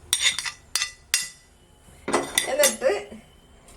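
Chopped cashew apple tumbles into a pan on a gas stove in a home kitchen, giving several sharp clinks and clatters with a spoon against the metal, and a voice briefly speaks partway through.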